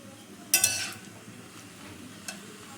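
A spoon stirs tomatoes in a wok to soften them, with one sharp clattering scrape of utensil on metal followed by soft sizzling and a lighter knock later on, without any speech.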